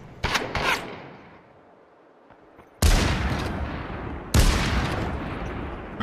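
Gunfire in the battle-royale game Population: One: a short burst of shots near the start, then two sharp, loud reports, each followed by a long rumbling tail.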